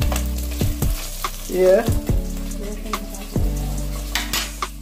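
Food sizzles and bubbles in hot oil in a pan during home Sunday cooking, a steady close fry broken by scraping stirs and clinks of utensils against the pot, with a brief voice at one point.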